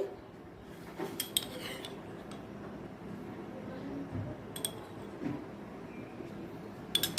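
Sour yogurt spooned into a coconut paste for a pointed gourd dish, heard as a few light metal spoon clinks against a bowl, sparse and fairly quiet over a faint background.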